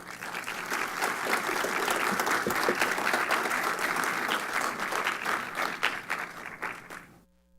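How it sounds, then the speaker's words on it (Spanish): An audience gives a strong round of applause to Dr. Klinsberg at a community participation forum, loud sustained clapping from many people that fades out at the very end. "démosle un fuerte aplauso"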